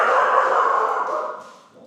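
A dog gives a drawn-out whining, yelping bark that is fairly close and loud and then trails off, with no talk over it.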